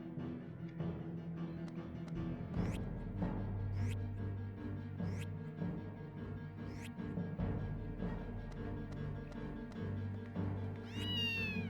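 A cat in the video game Baten Kaitos Origins meows repeatedly, a series of short, bright, evenly spaced calls over a steady musical background, with no talking.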